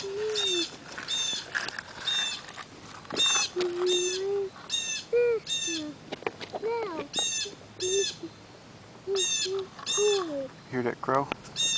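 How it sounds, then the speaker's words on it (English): A crow calls outdoors near railroad tracks, giving a dozen or so short, harsh caws in irregular bursts, fairly close and clear against a quiet background. "Hear that crow?"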